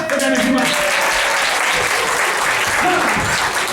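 Clapping from the audience at an improv adventure theater show, a dense continuous patter of many hands at steady loudness throughout, with some voices and tonal sounds mixed in underneath.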